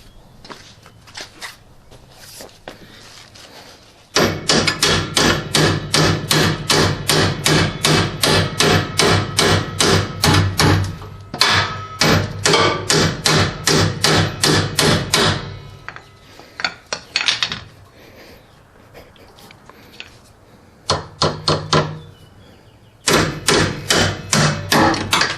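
Repeated sharp hammer blows on a jammed rear strut of a Lexus ES300 in fast bursts, loud and close, with brief pauses between runs of strikes.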